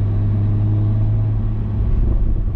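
A Toyota Supra drives on a race track, its engine a steady, loud low rumble that holds without a break and surges slightly toward the end.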